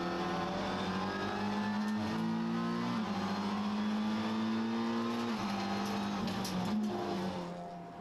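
Honda Civic TCR race cars at speed on a circuit, a continuous loud engine drone with shifting pitch as the cars hold and change revs, no voices.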